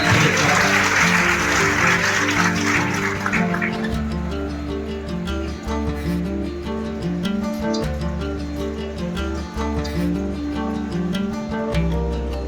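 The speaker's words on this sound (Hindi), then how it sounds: "एक बार जोरदार तालियां।" Audience claps loudly at a community education centre event in Gwalior; the applause fades after a few seconds as tonal music with a steady low beat takes over and continues.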